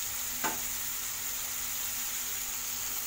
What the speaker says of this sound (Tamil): மசாலா தடவை சிக்கனை வந்து 2 நிமிஷம் ஹை ஃப்ளேம்லேயே வச்சு பார்த்திங்கன்னா நல்லா வதக்கி விட்டுட்டேன்